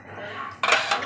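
A bowl and dishes clink and clatter briefly while dal is served at home, a quiet rustle followed by a sharp close knock of crockery near the end.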